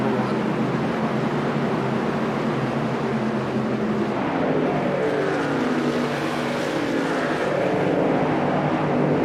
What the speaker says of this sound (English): Let's listen to these trucks at full song.